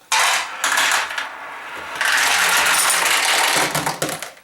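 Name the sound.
pachinko balls rolling through Julie pachinko machine tray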